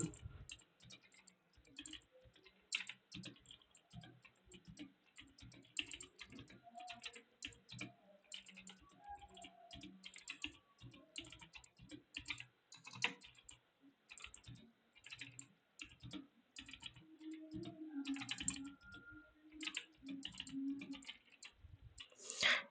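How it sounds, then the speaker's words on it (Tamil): Fingers tap a computer keyboard in quick, irregular bursts of light clicks, with brief pauses between runs, recorded close and quiet with no talking. "நான் சும்மா டைப் பண்ணுறேன் இப்போ"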